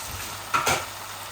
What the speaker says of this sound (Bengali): যত লাড়াচাড়া করমু বুনা করমু তত মজা বার হইব